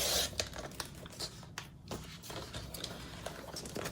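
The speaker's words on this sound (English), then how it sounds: "But for this, I'm gonna cut this in half." Sticker paper is cut in half at a craft table, with faint, close snipping, crinkling and tapping sounds scattered across a quiet room.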